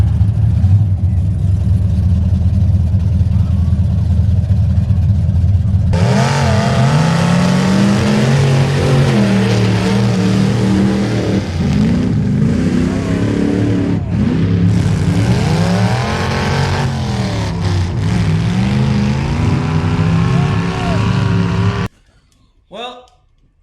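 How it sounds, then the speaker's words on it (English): Trucks drag race at a mud bog, their engines roaring loud and steady as they rev and climb through the gears, then cut off abruptly near the end. "it looks like we're about to have a drag race over here"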